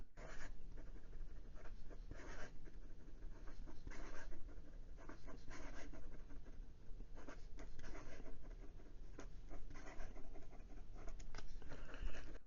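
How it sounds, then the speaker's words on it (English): A Leonardo Officina Italiana Furore fountain pen writes quickly on paper, giving a steady soft scratching and pattering of nib strokes throughout, close and faint with no talking. "And some quick writing."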